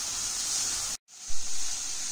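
Vegetable momo stuffing with vinegar, pepper powder and salt frying in a pan over high flame, a steady close hiss with one brief break near the middle.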